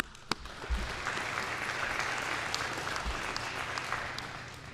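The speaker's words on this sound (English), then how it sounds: "Give yourself a round of applause." Graduates at a doctoral commencement ceremony at Missouri S&T applaud in a steady, dense patter of clapping from a large indoor crowd, moderately distant, with a few sharper claps and faint shuffling.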